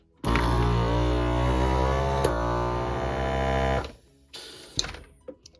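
A small electric vacuum sealer pump drawing air from a jar hums loudly and steadily for several seconds, then cuts off, leaving a few soft clicks and handling knocks.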